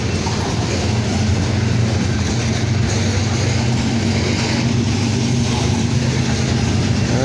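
A long freight train rolls past close by, with a DPU locomotive approaching and pushing from the rear, a loud steady rumble with engine drone and rhythmic wheel clatter throughout.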